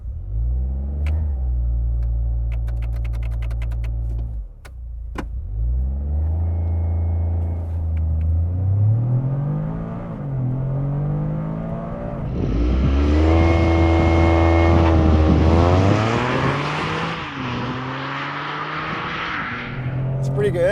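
An automatic 2025 Toyota GR Corolla launches with launch control, its engine droning low before climbing through repeated rising revs and gear changes, growing louder and harsher toward a strained high-rpm roar, close and sustained.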